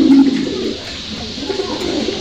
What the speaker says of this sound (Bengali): আপনারা দেখতে পাচ্ছেন এখানে এক জোড়া কবুতর